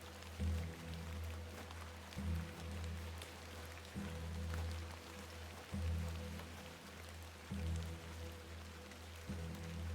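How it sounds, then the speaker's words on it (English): Rain falls in the video game The Excavation of Hob's Barrow as a soft, steady hiss beneath a looping low droning tone that pulses every couple of seconds, with no talking. "Let's get out of the rain."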